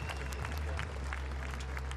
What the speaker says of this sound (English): That's a respectful applause, isn't it?